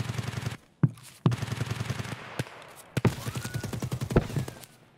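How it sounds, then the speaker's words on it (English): Gunfire in the video game Escape from Tarkov: several sharp shots ring out at irregular intervals over a steady low rumble of game ambience, with no talk. "What the fuck is shooting me?"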